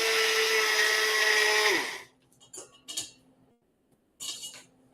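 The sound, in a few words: blender pulsing strawberries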